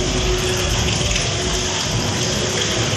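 Heavy rain pours down in Tamil Nadu as a loud, unbroken rushing wash of water that holds steady throughout, with no voices.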